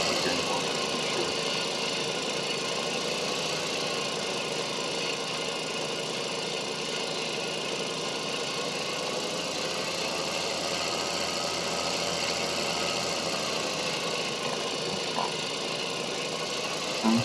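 Tractor engine in the farming game Farming Simulator 2013, a steady droning hum that holds at an even level throughout with no change in pitch or loudness and no voices.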